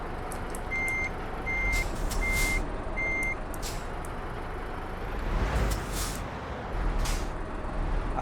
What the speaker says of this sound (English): I love all the truck sounds.